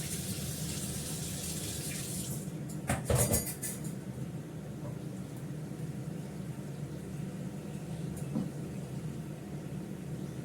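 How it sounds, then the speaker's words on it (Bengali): Water pours and splashes steadily as starchy water is drained from a pot of cooked rice in a home kitchen, a continuous close rush with a brief louder splash partway through and faint clinks of cookware. "আমাদের ভাতের হাঁড়িটা ঝর্ণা দিয়ে দিলাম"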